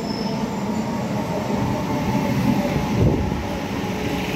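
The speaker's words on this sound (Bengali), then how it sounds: "এখান থেকে আবার ট্রেন আসছে" A train pulling into Muradi station in Purulia, a loud close rumble of rolling wheels and carriages with rising clatter and a faint squeal.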